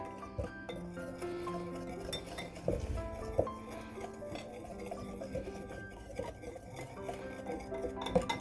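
Dry ingredients and leavening agents for a pumpkin roll cake are whisked in a bowl, giving soft repeated scraping and light clinking of metal on the bowl. The whisking is steady and fairly quiet, with no voices.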